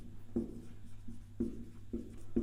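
Chalk or marker writing on a board during a Class 10 trigonometry lecture: a few short scratchy strokes in irregular bursts, fairly close, with a steady low hum beneath and no talk.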